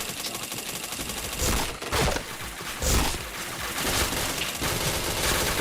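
Dense automatic gunfire from a shooting video game rattles on without a break, loud and close, with a few sharper bursts standing out from the steady barrage.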